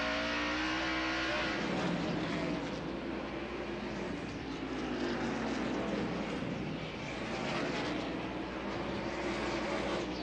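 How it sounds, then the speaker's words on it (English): Stock cars at a 1994 NASCAR race roar steadily around the track, a dense, continuous engine drone with layered revving tones holding loud for the whole stretch, with no talk over it. "And there's Musgrave, the Family Channel car, going past."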